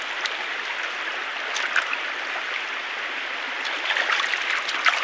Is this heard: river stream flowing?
yes